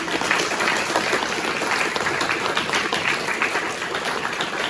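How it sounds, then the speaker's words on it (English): Audience applause for the panelists at the close of an Eagle-Con LA fan convention panel, a dense steady wash of clapping heard up close and without interruption. "Can we please get a round of applause for our panelists?"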